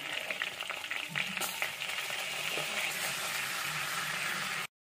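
Kashmiri red chili powder and other spices sizzle steadily in hot oil in a pan while cooking paneer butter masala, a soft continuous frying crackle with occasional stirring scrapes, fairly quiet and close.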